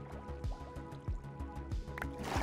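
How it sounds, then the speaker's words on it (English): Bubble column water in the Minecraft video game: rapid gurgling, bubbling pops with repeated low thumps in a steady rhythm, under game music tones throughout. "so if we put that in, now we actually have a bubble column."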